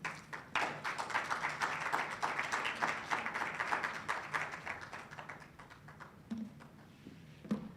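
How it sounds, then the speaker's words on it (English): Lecture audience at the George Negota annual lecture greeting the acting provincial chairperson with a round of applause, scattered claps building into a moderate wash, then thinning out toward the end. "please let's give a warm round of applause as we welcome the acting provincial chairperson,"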